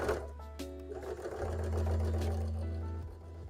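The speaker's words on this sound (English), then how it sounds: "now excuse me while I sew these horns up real quick" A sewing machine stitching horns onto a Mega Gengar Pokémon hat, its motor whirring steadily up close in one continuous run that swells slightly in the middle.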